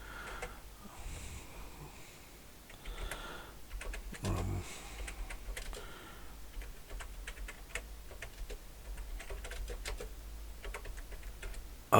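Clicky keystrokes on a Commodore C64 keyboard come in quick, irregular bursts with short pauses, close and fairly quiet, with faint murmured talk underneath.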